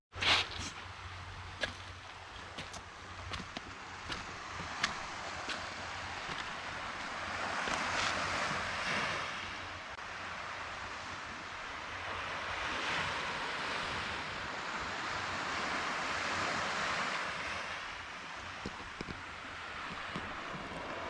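Gentle waves on a calm sea at an island beach with low water, soft surf swelling and fading in slow surges, faint and distant beneath light wind buffeting.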